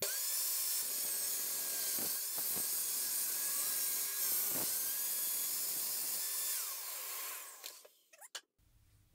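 A table saw cutting through wood in a workshop, a loud, sustained high whine with a few brief dips as the blade bites. It winds down and stops near the end, with no talking.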